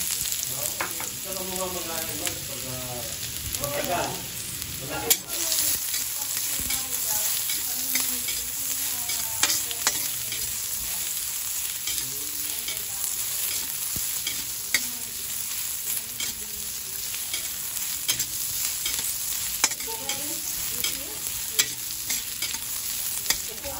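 Ginger frying in hot oil for a Filipino sinampalukang manok chicken dish, a steady close sizzle with scattered stirring knocks and pops throughout.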